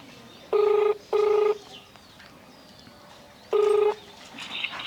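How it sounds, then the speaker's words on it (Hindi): Three short electronic phone dial beeps, two close together and one after a pause, over faint background noise. "लगा फोन लगा"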